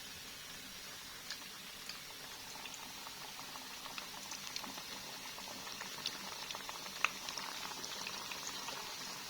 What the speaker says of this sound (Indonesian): udah mendidih tehnya.